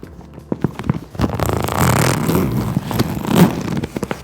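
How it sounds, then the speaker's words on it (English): A zipper is dragged open in a few short scratchy pulls, close by, with some rustling before and after. "It's a zipper."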